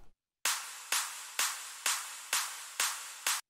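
A clap sample in an electronic music production: seven sharp, bright claps hit in an even rhythm, each with a quick snap and short decaying tail, loud and dry with no voices.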